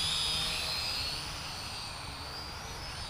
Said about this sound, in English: it's flying fine. It's fairly quiet to fly.